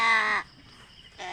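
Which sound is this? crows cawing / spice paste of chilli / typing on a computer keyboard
crows cawing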